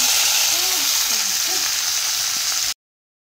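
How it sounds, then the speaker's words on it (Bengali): Spices sizzle and hiss steadily in hot oil as tempering is added to a lati (taro stolon) curry with chicken, a continuous frying crackle that cuts off abruptly. "এখানে এই যে লতি রান্নার জন্য এই যে সব কিছু করে নিয়ে বাগার দিয়ে নিলাম"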